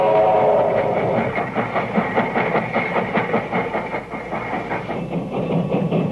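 A six-driving-wheel steam locomotive from 1890 runs steadily on the rails, with a continuous rolling rumble and a regular clickety-clack rhythm that stays loud and close throughout.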